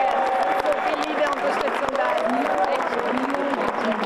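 Applause from delegates at a Green party congress, dense continuous clapping from a large hall crowd with a voice speaking over it.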